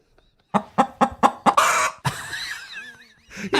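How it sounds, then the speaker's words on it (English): Chicken clucking sound effect plays as a run of five quick, punchy clucks, then a longer squawking cackle with warbling tones and a final cluck, loud and close, with no talk. "where's the chicken sound effect?"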